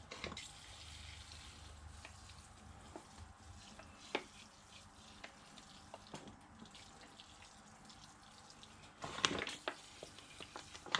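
A spray of water rinses through bonsai soil mix in a pot, a faint, steady hiss with splashing, and a brief louder gush near the end.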